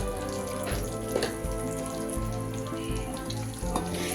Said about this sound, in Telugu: ఫ్రై చేసిన ఎగ్స్ ఎందుకో చాలా టేస్టీగా ఉంటాయి అందుకని నేను స్పెషల్గా ఫ్రై చేస్తున్నాను